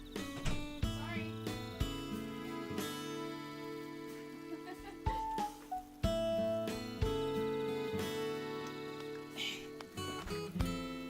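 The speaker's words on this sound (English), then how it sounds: "I think I hear my cat." A pet cat meowing indoors, a few faint, brief calls scattered over a steady background of game music.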